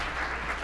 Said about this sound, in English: How about a round of applause for that letter?